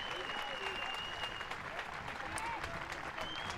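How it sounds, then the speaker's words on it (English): Stadium crowd at a women's Super League football match between Everton and Manchester United gives warm applause for an injured player leaving the pitch, a soft, steady, distant patter of clapping with no break. "warm applause all around"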